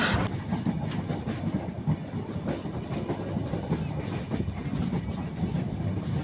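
Chitra Express passenger train on newly laid ballasted track bound for Dhaka, heard as a steady close rumble of wheels on rails with faint clickety-clack throughout, no talk over it.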